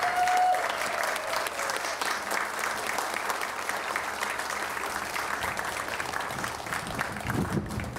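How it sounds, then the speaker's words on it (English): A crowd applauds at the grand opening of the Mary Beth Nienhaus Activity Center, sustained even clapping from many hands with a faint voice briefly underneath. "let's give another big round of applause for everyone"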